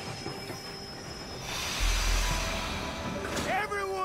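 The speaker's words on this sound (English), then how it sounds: "Train's coming in." Train pulling into a station in the video game Red Dead Redemption 2, a low rumbling approach building up, followed by high metallic wheel squeals near the end.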